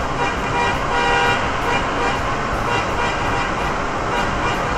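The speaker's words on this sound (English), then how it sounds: "Honking in tunnels gives me joy." Car horn honking inside a road tunnel, loud and close, with repeated short toots over a steady reverberant roar of traffic.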